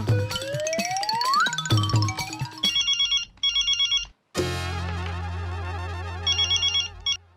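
A telephone ringtone in a Mumbai housing society sitcom, bursts of electronic trilling rings repeating in short regular pulses, following a sliding comic musical flourish.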